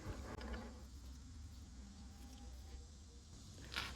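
A hand crank turns the table of a South Bend mill, making quiet mechanical creaks and soft clicks with a faint bump near the start and a brief sharper noise at the end.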